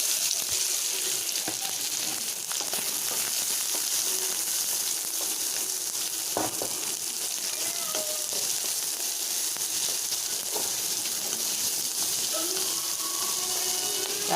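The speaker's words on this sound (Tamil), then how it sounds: "கடுகு வெடிச்சிருச்சு, இந்த வெங்காயத்தை போட்டு" Chopped onions drop into hot oil where mustard seeds have just popped, giving a loud, steady sizzle and crackle that lasts the whole stretch, with occasional stirring clinks.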